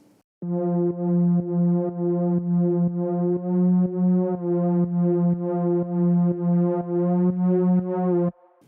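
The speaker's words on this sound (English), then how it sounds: "if I do a little pitch bend on my keyboard" A sustained buzzy synthesizer note with a regular pulsing rhythm, its pitch gently bending up and back down midway via keyboard pitch bend, played solo.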